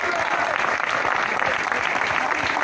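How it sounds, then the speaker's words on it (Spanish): Church congregation clapping in praise during a Spanish-language sermon, dense steady applause filling the room for a few seconds, with some voices mixed in. "denle un aplauso al Señor."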